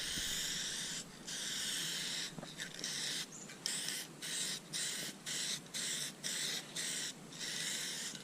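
An aerosol can sprays plastic adhesion promoter onto a cracked C3 Corvette interior panel in a series of close hissing bursts, a long spray first and then many short rhythmic pulses, with no talking.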